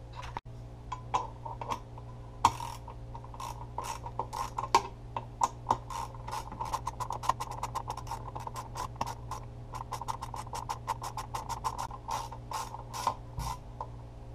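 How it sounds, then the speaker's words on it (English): A hand ratchet clicks in rapid, uneven bursts as bolts are loosened from the top of an engine, the quiet mechanical ticking repeating close by with no talk. "Now there are 4 bolts, these 4 up top, that need to be removed, so we'll get those removed now."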